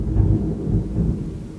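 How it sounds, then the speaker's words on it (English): Loud thunder from a thunderstorm, a deep rolling rumble that fills the short stretch with low heavy energy, a faint hint of rain beneath, and no voices. "That was the loudest thunderstorm of my life."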